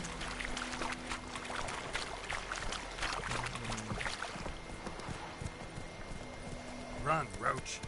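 Hoofbeats of Roach, Geralt's horse in The Witcher 3, clatter in a steady run at close range, with game music and ambience beneath and a short burst of louder sound near the end.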